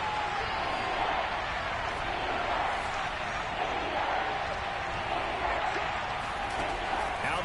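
A football stadium crowd roars in a steady wash of noise while the home side waits for a defensive stop on third down. A commentator's voice can be heard faintly under the din.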